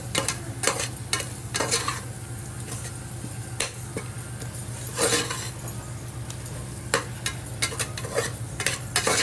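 Biryani masala with Kashmiri chilli being stirred in a pan with oil, a metal spoon scraping and tapping in frequent quick strokes over a continuous sizzle, close and clear.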